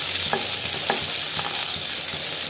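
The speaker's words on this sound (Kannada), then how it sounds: "ಈಗ ಬೆಳ್ಳುಳ್ಳಿ ಹಾಕ್ತಾ ಇದ್ದೀನಿ, ಸ್ವಲ್ಪ ಫ್ರೈ ಮಾಡ್ಕೊತೀನಿ ಲೈಟಾಗಿ" Garlic fries in oil with mustard seeds, giving a close, continuous sizzle broken by a few sharp stirring scrapes at regular intervals; no speech.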